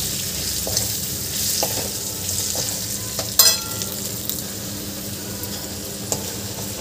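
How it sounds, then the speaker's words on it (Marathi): Fried mixed vegetables tossed into sizzling masala, a steady close sizzle broken by spatula scrapes and a bright metallic clink against the pan partway through. "इथे आपण भाज्या तळलेल्या फ्राय केलेल्या टाकून द्यायचे यामध्ये आणि हे मिक्स करून घ्यायचं आहे।"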